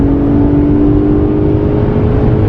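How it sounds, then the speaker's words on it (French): Infiniti Q50 with a 364-horsepower V6 petrol engine accelerating: a loud, steady engine drone that holds for the whole stretch, with no voices over it. "avec ce moteur essence V6 de 364 chevaux. Et dès que vous appuyez sur la pédale,"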